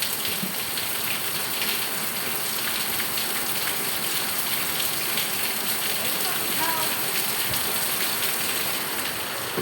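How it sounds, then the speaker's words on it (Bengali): A heavy downpour drums steadily on surfaces, a thick continuous wash of rain noise with occasional splashy gushes, loud and close throughout. "এত বৃষ্টি কমে না, বৃষ্টি দেখতাও সমানে খালি বৃষ্টি হইতে আইছে।"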